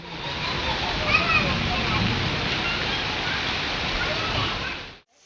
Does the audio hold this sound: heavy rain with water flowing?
yes